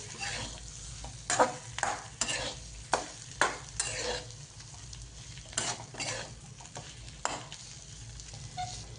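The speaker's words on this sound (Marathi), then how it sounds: "कारलं चांगलं परतून घ्यायचं आहे" Bitter gourd is stirred and sautéed in a pan over a low flame, with a soft sizzle beneath a run of close, sharp scrapes and clinks of a spoon against the pan.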